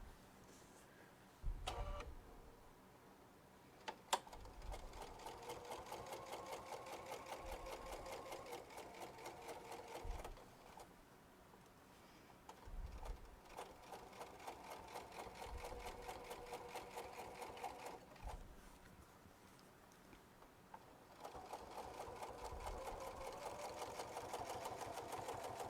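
A home sewing machine stitches a fabric purse in repeated runs, its rapid mechanical whir rising and stopping in bursts with brief pauses and handling clicks between, close and steady.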